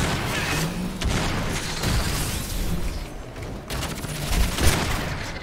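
Gunfire and explosive bursts from the video game Crysis, a dense, loud and continuous fusillade with heavy booms and crashing debris that swells and dips across the stretch, without any talk.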